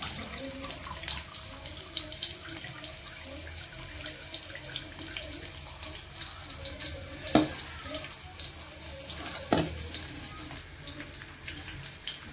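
Tap water runs steadily into a sink while cut wild kuvali vegetables are washed in a Konkan home kitchen, with a couple of brief louder splashes or clatters partway through.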